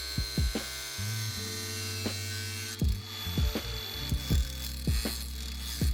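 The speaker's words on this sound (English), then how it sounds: "so I ended up grinding the screws down for the front of the legs." A power tool grinds metal screws flush on the front legs of a wooden coffee table. A whining motor buzz is broken by repeated sharp clacks and knocks, with the tool rising and falling in bursts, close and fairly quiet.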